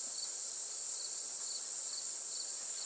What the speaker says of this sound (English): Just whatever that cricket and I think a peeper frog.